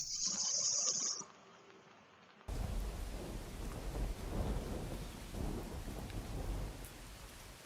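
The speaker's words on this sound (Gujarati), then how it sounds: "સુરતમાં હજુ 4 કલાકમાં જ આટલો બધો જે છે વરસાદ વરસી ગયો" Heavy monsoon rain pours down in Surat with thunder rumbling through it, a dense and continuous downpour that follows a short, quieter opening.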